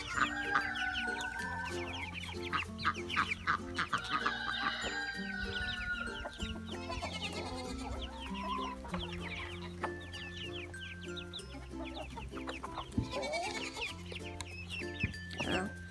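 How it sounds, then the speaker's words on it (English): A mixed backyard flock of ISA Brown, Jersey Giant and dark Brahma chickens clucks and calls steadily throughout, fairly close, with a music bed running beneath. "We have ISO browns, wind dots, black jerseys, black giant jerseys, and dark Brahmas."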